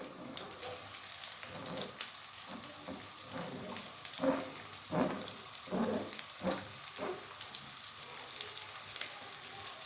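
Onions sizzle steadily in hot oil in a pan as part of an osso buco recipe, a constant broadband hiss with a few soft clicks and shuffles of the food, heard up close with no talking.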